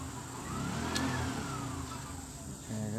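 Motor vehicle engine with a modified, silencer-less 'borabora' muffler in Don Carlos revs up in a loud, raspy rise and fall, holding a steady rumbling idle between pulls.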